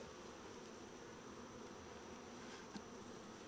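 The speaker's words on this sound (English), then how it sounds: "Because this hive is packed with bees." Honey bees in an open, crowded hive hum in a faint, continuous buzzing drone, quiet and steady without talk.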